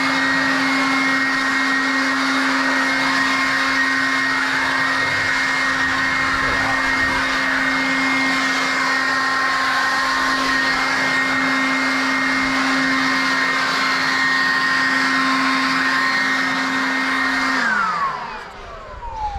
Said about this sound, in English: the Ryobi Whisper Series brushless blower